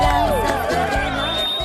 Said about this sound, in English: it was Antonio Margarito who drew the day's biggest cheers